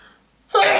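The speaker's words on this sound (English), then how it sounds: "Excuse me, that was the craziest sneeze." A single sudden, forceful sneeze bursts out loud and close, following a brief bit of quiet, muffled voice and near silence.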